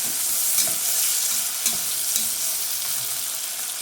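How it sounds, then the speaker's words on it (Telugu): About ten mint leaves frying with onion in oil for a country chicken pulao, a steady close sizzle with faint stirring scrapes and no talk. "ఇందులోనే కొంచెం పుదీనా ఒక 10 ఆకులు అలా వేసుకుని ఇది కొంచెం పచ్చివాసన పోయేదాకా ఫ్రై చేసుకోవాలి."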